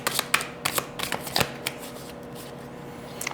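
A new Vintage Tarot deck being shuffled by hand, a run of crisp riffling card flutters and soft taps in quick irregular bursts, close and clear with no voices.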